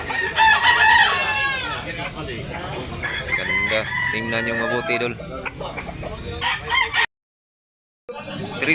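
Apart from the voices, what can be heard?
rooster crowing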